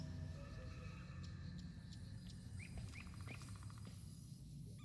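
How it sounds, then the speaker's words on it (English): A holographic bird in the video game Warframe gives three quick, thin chirps in a row, fairly faint over a steady low ambient drone of the game environment. "They got a holographic bird."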